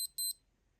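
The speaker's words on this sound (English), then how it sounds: "Okay, that was a alarm." A Casio G-Shock DW-6600C digital watch alarm gives a quick burst of three high, thin electronic beeps, close and clear, then falls quiet.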